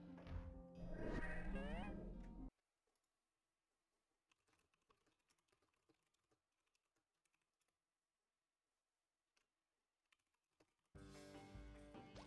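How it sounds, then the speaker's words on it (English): Scattered, faint taps on a computer keyboard during a pause in a platform game playthrough, quiet and irregular, framed by louder game sound before and after. "Hold on, I'm typing."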